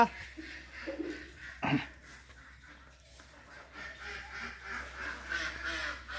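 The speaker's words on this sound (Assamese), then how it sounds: "দেখিছে কুকুৰা, মানে হাঁহ" Ducks quack in scattered bursts nearby on a farm, one louder call standing out, amid faint background murmur.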